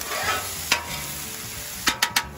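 Vegetables sauté in butter with a little oil on a hot Blackstone flat-top griddle, a steady sizzle running throughout with a few sharp clinks of a spatula stirring, close and fairly loud.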